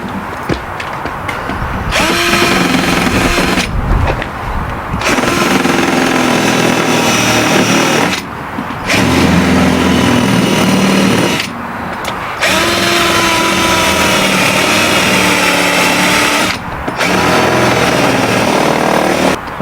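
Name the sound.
filing holes to fit a staple clip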